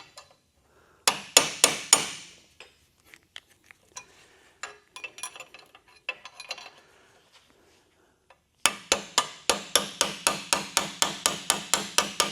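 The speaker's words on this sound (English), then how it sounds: "I'm going to put this chisel in between, which is tapered, and see if I can push it out from the bottom" A steel chisel is hammered to drive out a hinge pin on a second-generation Chevrolet Camaro door hinge: a few sharp ringing blows, scattered lighter taps, then a long steady run of close, evenly spaced metallic strikes.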